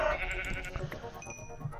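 Sheep bleating in the Minecraft survival game, two or three short wavering bleats close by over soft background game sound, with no talking.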